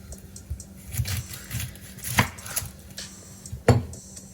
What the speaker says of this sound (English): we're gonna start chopping an onion, well, slicing it